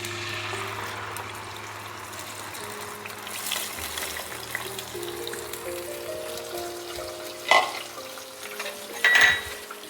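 Marinated mutton sizzles and fries in hot oil, a soft continuous crackle with occasional louder spatters and stirring near the end.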